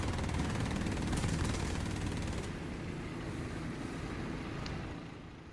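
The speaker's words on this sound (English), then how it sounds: "Racketing of the firearms" Continuous rattling gunfire from the War Thunder video game, dense bursts layered over an engine drone, fairly loud and easing off toward the end.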